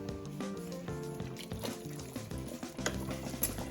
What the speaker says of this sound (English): Give that a good stir through.